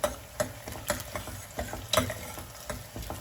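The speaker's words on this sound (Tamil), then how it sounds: "நம்ம சின்ன சின்னதாக கட் பண்ணி வச்சுருக்கக்கூடிய பூண்டை வந்து இதில் போட்டுக்கோங்க. பூண்டு வந்து நல்லா வதங்கட்டும்." Chopped garlic sautéing in a pan for a bottle gourd tamarind curry, with a soft sizzle under a regular series of sharp spatula scrapes and taps roughly every half second.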